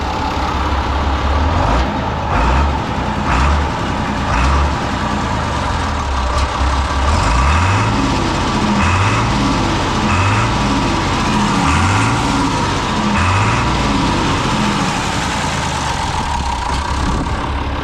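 A Renault 110.54 tractor engine runs loud and close, a steady diesel rumble that swells into repeated rising revs partway through, with no voices.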